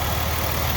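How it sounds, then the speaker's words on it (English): A running Ford Escape engine with an exhaust leak gives a loud, close, continuous idle drone with a rough, buzzy texture and no voices. "You can hear an exhaust leak on this thing too."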